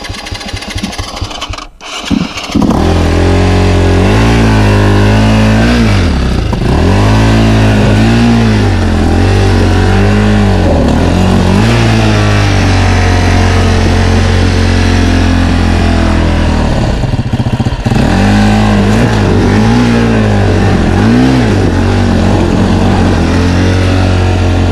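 A motorcycle engine revs hard and continuously on a mountain trail in Sardinia, loud and close with rising and falling pitch sweeps as the throttle works, broken by a short dip near the start.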